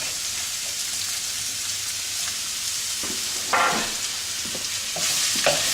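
Carrots, onion and garlic sizzle in melted coconut butter for a vegan creamy risotto: a continuous, close frying hiss, broken by a few louder bursts and scrapes as the pan is stirred.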